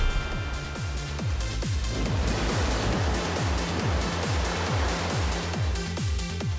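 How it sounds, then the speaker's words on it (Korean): Strong waves crashing against the rocky cliffs of the Gijang coast on Korea's East Sea, a steady loud roar of surf and spray with heavy low rumbling pulses, no voices. "진짜 파도가 거세게 치는"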